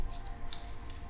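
Scissors snip hair in a barbershop while a section of a high skin fade is cut, a single sharp metallic snip with a few faint clicks around it, close and quiet.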